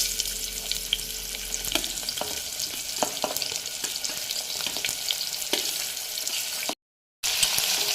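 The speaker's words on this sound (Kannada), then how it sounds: "ಉಳ್ಳಾಗಡ್ಡಿ ಚೆನ್ನಾಗಿ ಫ್ರೈ ಆಗ್ಬೇಕು ನೋಡ್ರಿ" Onions fry in hot oil with spices for egg rice, producing a loud, dense sizzle throughout with scattered spoon scrapes and a brief dropout to silence near the end.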